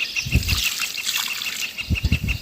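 Water trickles and splashes close by in short bursts as river fish are washed, a few quick pours and sloshes, with no talking.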